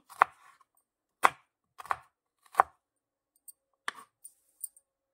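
A knife finely chops tomatoes on a cutting board, about eight crisp, close strikes at an uneven pace, with no talking.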